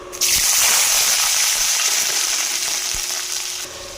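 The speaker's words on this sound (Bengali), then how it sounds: "পেঁয়াজটা লাল করে ভেজে নেব" Chopped onion dropped into hot mustard oil with cinnamon, cardamom and bay leaf, bursting into a loud, dense, steady sizzle right up close that holds for several seconds before easing off.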